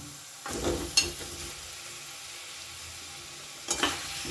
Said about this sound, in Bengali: খুব ভালো করে এটা মশলার সাথে আমি মিশিয়ে নেব